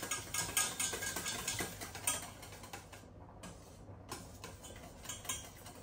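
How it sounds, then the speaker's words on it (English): A whisk scrapes and taps rapidly in a pan as a roux sauce is mixed over the heat, making a quick, irregular clicking patter. The sound is close but fairly quiet, with a brief pause midway. "bring back over to the heat, whisk it all in, make sure it's all fully mixed up"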